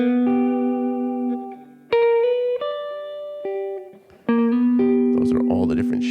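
Electric guitar strums a series of ringing dominant/major blues chord shapes, each let to sustain and fade before the next, with a rhythmic pause between shapes.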